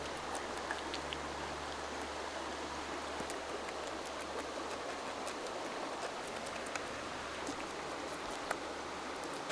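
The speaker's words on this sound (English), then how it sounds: "So it just started raining," Steady rain pours down in a jungle beside a creek, a dense, even hiss with scattered close drips, continuous and without voices.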